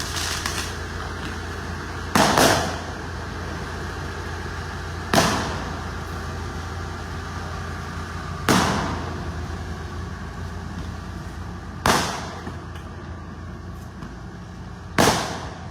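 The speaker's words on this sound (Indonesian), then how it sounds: "Bisa dilihat sendiri mulai menembakkan petasan ya." Firecrackers set off by a crowd beneath a city flyover pop one at a time, five sharp cracks spaced a few seconds apart over a steady low traffic rumble, each blast ringing out briefly and loud against the background.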